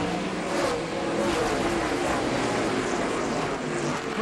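ARCA series race cars roar continuously around the high-banked oval at Toledo Speedway, a steady loud drone with shifting pitch and no pauses.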